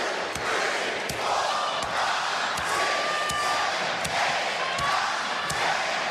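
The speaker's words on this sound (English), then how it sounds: "Raucous crowd here tonight in Pittsburgh" A raucous wrestling crowd fills an arena in Pittsburgh during a televised SmackDown match, a constant roar of cheering and chanting with repeated sharp thuds and slams cutting through at regular intervals.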